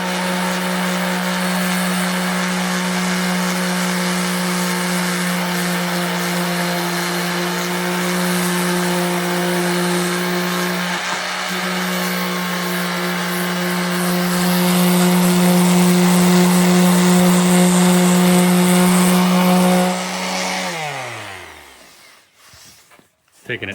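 A Jeep's surface is sanded to feather the edges before a vinyl wrap goes on, heard as a loud, steady droning hum that runs for about twenty seconds and then winds down to stillness.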